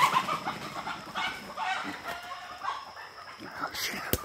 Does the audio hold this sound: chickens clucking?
yes